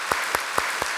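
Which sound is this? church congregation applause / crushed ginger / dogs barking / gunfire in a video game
church congregation applause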